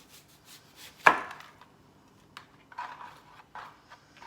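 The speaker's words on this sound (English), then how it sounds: "I have this beautiful white onion. I'm gonna try to cut that about the same size also." A knife slices a white onion on a cutting board, giving one loud crisp chop followed by several softer, quieter cuts spaced irregularly, close by in a quiet kitchen.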